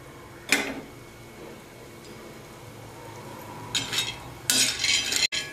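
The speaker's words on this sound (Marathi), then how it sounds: "थोडं तेल घालू या सांडग्यावर." Oil spooned from a small bowl onto dried moong dal sandge in a bowl, giving a brief near clink of spoon on dish followed by a few soft wet dabs and scrapes.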